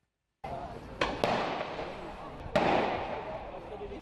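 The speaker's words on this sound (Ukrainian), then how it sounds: "У бельгійському районі Моленбек чути постріли та вибухи." Several sharp gunshots and explosions ring out in the Molenbeek district of Brussels, one around a second in, another soon after, and a louder one later, over a steady noisy background with some voices.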